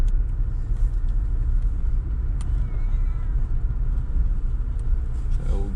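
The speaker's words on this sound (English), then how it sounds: "X mode and traction control, I can keep on spinning the wheels." Subaru in X mode with traction control spinning its wheels off-road, a loud continuous low engine and tyre rumble that holds steady throughout, close up with no speech.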